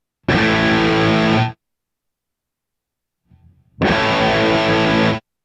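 Two loud bursts of distorted electric guitar with reverb and delay, each cut off abruptly by a volume pedal, with a short faint fragment in the gap between them.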